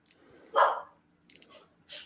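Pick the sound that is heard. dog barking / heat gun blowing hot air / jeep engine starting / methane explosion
dog barking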